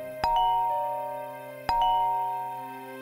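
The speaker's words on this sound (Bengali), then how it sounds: "ট্যাক ট্যাক শব্দে কলিং বেল বেজে উঠল।" Electronic doorbell chiming twice in a drama scene, each ding-dong ringing out bright and clear then slowly fading, spaced about a second and a half apart with no voices.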